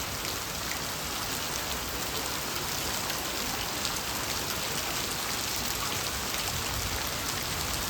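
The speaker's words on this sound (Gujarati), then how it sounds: "બે વાગ્યાનો વરસાદ ચાલુ થયો છે." Heavy rain pours outside a house with a haveli, a steady, dense, loud hiss of drops hitting surfaces that continues unbroken throughout, with no talking.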